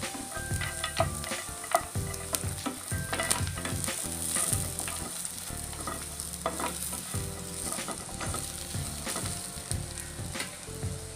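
Cashews fry with browned onion and chilli in a pan while making palak paneer, giving a continuous close sizzle broken by repeated scraping and clinking of a stirring spoon.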